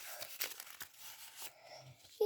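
A small paper packet is handled and torn open in short, faint crinkling bursts, ending in a louder crackle.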